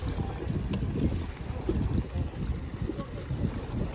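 Strong wind buffets the microphone while water sloshes against a small sailboat pulling away, a rough, continuous rush of gusts and lapping.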